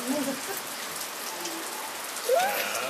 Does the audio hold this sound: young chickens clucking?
no